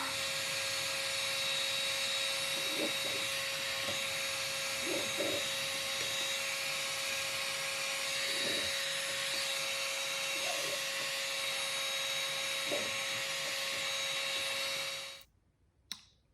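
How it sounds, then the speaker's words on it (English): A hot air gun heating old glue on G3 climbing skins gives off a steady, loud, broadband blowing roar with faint scraping touches, then cuts off abruptly near the end. "it takes a little bit of time for the hot air gun to heat up"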